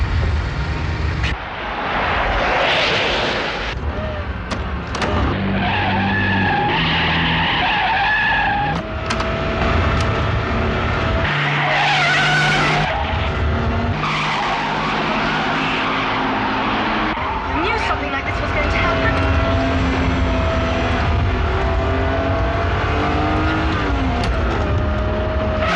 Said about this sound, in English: I've taken my foot off the gas pedal, but we're still accelerating.